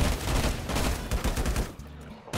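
Dense automatic gunfire in the video game LifeAfter, a sustained rapid rattle of shots, loud and close, easing off toward the end, with no talk over it.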